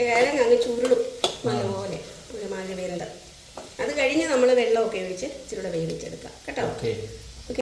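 Turmeric powder roasting in oil for a masala sizzles steadily in the background, almost buried under nearly constant close-up talking.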